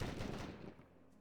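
Dwarf cannon fire in a fantasy strategy game, heard as a single dense, booming blast that rumbles out and fades within about a second, with no speech.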